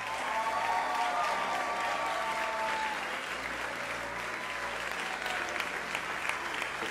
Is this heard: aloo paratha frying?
no